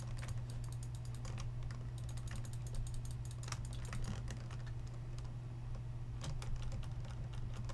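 A computer keyboard clatters with a rapid stream of quick key presses during a Minecraft survival game session, steady and faint over a low constant hum, with no voices.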